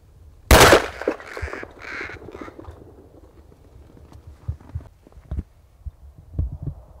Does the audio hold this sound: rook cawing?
yes